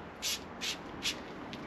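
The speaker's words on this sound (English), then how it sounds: "So I'll just have a spray around" Short bursts of water sprayed around a Brompton folding bike in a workshop: three distinct hissing squirts in quick succession, then a fainter fourth, close by with no talk.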